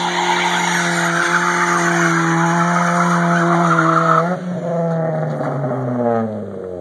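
A 1991 Honda Civic hatchback slides on its e-brake with a loud, sustained tire squeal close by, held for several seconds before dipping and tailing off as the engine drones underneath.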